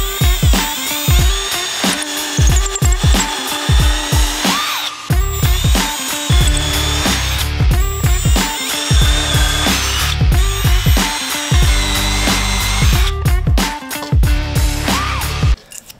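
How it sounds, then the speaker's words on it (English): A power drill whines in repeated bursts, spinning up and biting through material several times, each burst ending with the motor winding down; loud and close. "So now we're gonna go ahead and drill down through these points."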